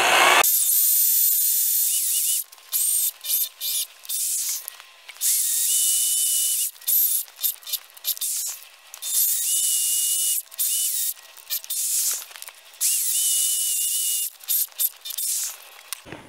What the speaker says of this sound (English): set that on there and get the drill going in the right direction.